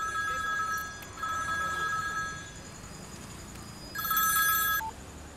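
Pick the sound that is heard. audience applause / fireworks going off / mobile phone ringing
mobile phone ringing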